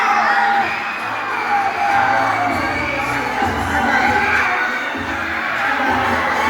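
Schoolchildren shout and cheer loudly together as a crowd at a school spelling contest during intramurals, a dense, sustained wash of young voices whooping and yelling in a hall.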